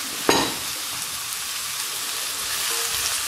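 Vegetables and mushrooms stewing in a pan for a cheesy chicken soup, a soft steady sizzle and bubbling with one brief clatter near the start.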